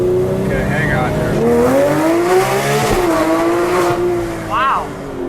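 A green 2016 Porsche 911 GT3 RS engine runs loud and close from the cabin, its tone rising and sliding as the intake draws air under acceleration, with voices talking over it.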